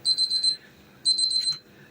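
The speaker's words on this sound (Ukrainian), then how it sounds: "Так, в мене спрацював таймер." A kitchen timer alarm beeps in two rapid bursts, a high electronic tone repeating quickly, with a short pause between bursts, while cooking cauliflower.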